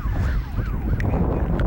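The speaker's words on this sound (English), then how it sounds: "As the ambulances go flying by" Ambulance sirens wail past a high school baseball game, rising and falling tones sweeping by over heavy wind noise and a low crowd rumble, moderately loud and passing at a distance.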